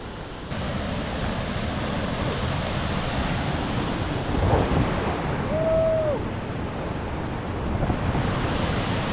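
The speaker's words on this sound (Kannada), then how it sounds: "ಮಳೆ ಬೇರೆ ಬರ್ತಾ ಇದೆ" Rain falls in the Malenadu hills around Thirthahalli, a steady, even hiss that fills the whole stretch, with a faint brief whistle partway through and no speech.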